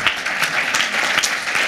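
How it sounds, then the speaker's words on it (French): Audience applause at a corporate presentation, a steady broadband patter of many hands clapping close by for under two seconds, fairly loud and even. "Oui, je veux bien qu'on l'applaudisse"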